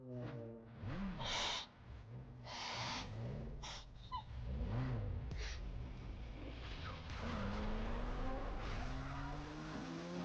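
Racing cars in a circuit race in Need for Speed Most Wanted Black Edition, engines revving and shifting pitch steadily throughout with brief bursts of tire noise, loud and continuous.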